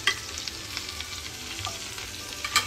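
Garlic sizzles in melted butter in a pan beside a steak: a soft, continuous frying crackle with small pops and a sharper spatter near the end, no voices.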